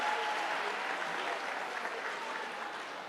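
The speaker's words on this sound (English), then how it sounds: "Another round of applause, please, in appreciation of the Minister." An audience at a primary school handover ceremony applauds the Minister, a steady, moderately distant wash of clapping that slowly fades slightly toward the end.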